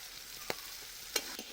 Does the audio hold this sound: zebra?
no